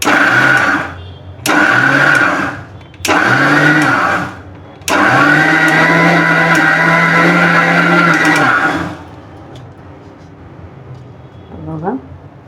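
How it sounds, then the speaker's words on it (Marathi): A kitchen mixer grinder whirs loudly as it grinds sugar in short on-off pulses: three brief bursts, then one longer run of about four seconds before it winds down into quiet. "अशा प्रकारे आता आपण मिक्सरला वाटून घेऊ"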